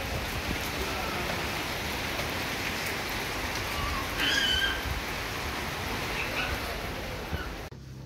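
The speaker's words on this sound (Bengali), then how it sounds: "মুষলধারে না হলেও বেশ ভালোই বৃষ্টি হচ্ছে।" Fairly heavy rain falling steadily and evenly across the whole stretch, a dense close hiss with no talk over it.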